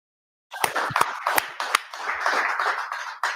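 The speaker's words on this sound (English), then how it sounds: "With that, I want to clap it up." An audience claps at a scripture class gathering in Charlotte, North Carolina, a burst of close, sharp claps starting suddenly and continuing unevenly for a few seconds.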